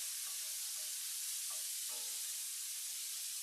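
Chicken and rice, Cajun style, fry in a hot coated cast iron pan, giving a steady bright sizzle with a few soft scrapes of stirring, close and even throughout with no talking.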